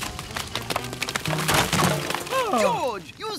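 A cartoon jungle scene bursts into a chaotic smash of cracking, splintering wood and breaking debris as someone is slammed into a termite mound, with a loud jumble of impacts mixed with voices and squealing sounds.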